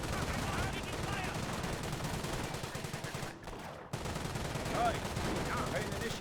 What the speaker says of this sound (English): These guys do get suppressed by the base MG.